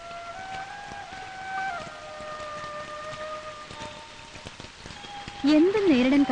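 Steady rain falls in a dramatic film scene, a dense even patter with a soft tonal musical wash underneath and a brief voice rising near the end.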